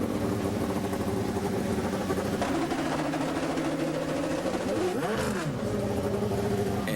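Max Papis's IndyCar at 2008 Bump Day time trials is fired up with a clutch-like fault, a rough idling engine drone with a rising and falling rev near the end.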